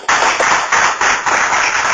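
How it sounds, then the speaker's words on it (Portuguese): A church congregation claps steadily in a dense, continuous wash of applause with slight rhythmic swells, loud and close. "Palmas para o Senhor Jesus."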